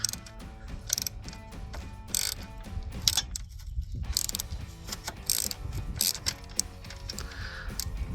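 A ratchet wrench fitted with a swivel works a radiator bolt on a Jeep Wrangler JK, giving repeated bursts of sharp, close ratcheting clicks separated by brief pauses, with no talk.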